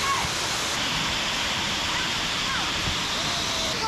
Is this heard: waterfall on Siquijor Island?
yes